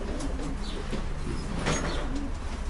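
Racing pigeons at a loft during basketing for a competition flight in Kosakowo, giving soft, repeated low coos against a steady background of bird activity, fairly close and with no talk.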